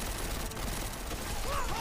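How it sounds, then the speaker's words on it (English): Heavy gunfire in Deus Ex: Mankind Divided forms a dense, continuous roar of rapid shots with no gaps, loud and steady throughout. "We're under heavy fire down here"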